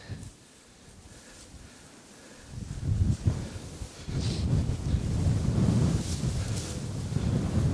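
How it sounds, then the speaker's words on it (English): Strong wind buffets a microphone outdoors at night beside a low tripod, a soft rumble at first that swells into loud, continuous low-frequency gusting from about the third second on. "But man, the wind is just whipping."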